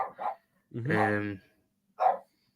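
A dog barks a few times, short sharp bursts near the microphone, with a gap between them, in a quiet indoor setting.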